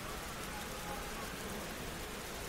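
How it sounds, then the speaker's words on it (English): Heavy downpour in a baseball simulation video game, a dense, even hiss of rain falling steadily and close, with no pauses or voices. "Weather is now downpour."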